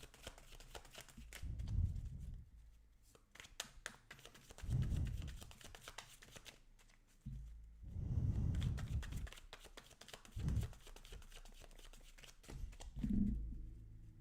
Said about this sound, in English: It's quite a shuffle.